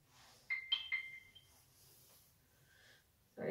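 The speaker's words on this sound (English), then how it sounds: "Sorry about that phone, I forgot to turn it off." A mobile phone ringtone sounds in a quiet room, a short melody of bright electronic tones, moderately faint and alone, before a breath or rustle at the end.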